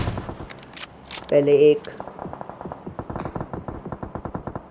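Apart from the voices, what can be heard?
gunfire in a video game squad match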